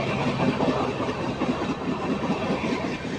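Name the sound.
KSR Bengaluru-Mysore SF Express train arriving at Channapatna station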